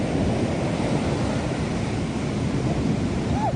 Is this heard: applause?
no